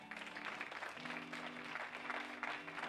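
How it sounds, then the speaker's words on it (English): A church congregation gives short, quiet applause, a soft continuous patter of many hands heard at a distance over a low hum. "that's a good place to clap right there."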